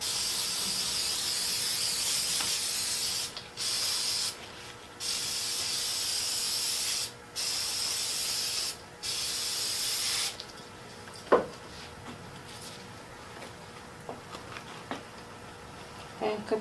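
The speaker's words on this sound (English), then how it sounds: "I'm going to go ahead and spray some of this on here." Several long bursts of cleaner sprayed onto a squeegee in quick succession, loud and close, followed by quieter scraping and faint knocks.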